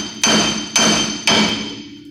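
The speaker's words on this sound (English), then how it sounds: "we're gonna grab our hammer, give it a couple taps upward" Three sharp metallic hammer taps strike upward on a Ford Ranger steering spindle during a lower ball joint replacement, each ringing out close and loud then fading, evenly spaced about half a second apart.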